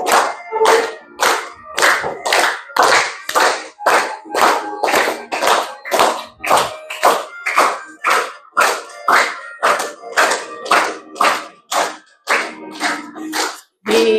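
A room of students claps in unison, about two dozen loud, evenly spaced claps in a steady rhythm, each a sharp burst of many hands together, with no talking over it.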